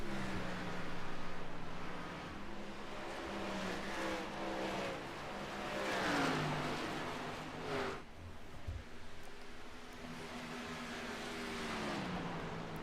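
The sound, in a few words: race cars driving around the track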